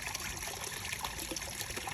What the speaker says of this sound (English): We got the waterfall and the pump going for some extra aeration.